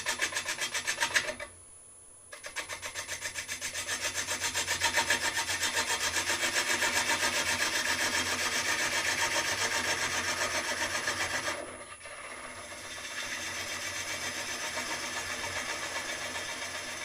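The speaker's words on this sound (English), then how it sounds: "we'll just make sure, run a gouge just along here" Gouge cutting along a spinning sycamore blank on a lathe, a steady rhythmic scraping rasp close up, with two short pauses where the cut lifts off before resuming.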